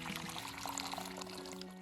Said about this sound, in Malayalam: ഇനി ഇതിലേക്ക് 2 കപ്പ് ചൂടുവെള്ളം ഒഴിക്കുക.